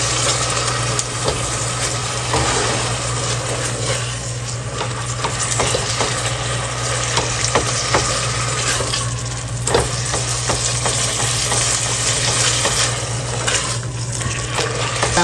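Green chili and coriander paste frying with chicken keema in a pan, a dense continuous sizzle with steady scraping and stirring strokes of a spoon, close and loud, under a constant low hum.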